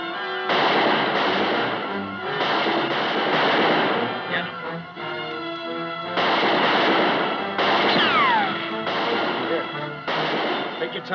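Gunfire in a Western TV episode, several loud bursts of shots in clusters with brief pauses between them, set against a busy soundtrack with voices speaking over parts of it.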